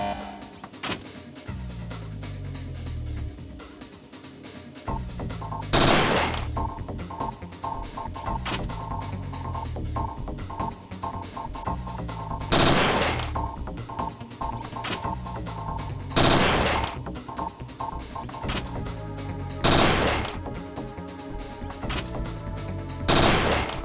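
Target-shooting practice in Parasite Eve 2, with a handful of loud, sharp gunshots spaced several seconds apart over a droning background of mechanical sounds and music.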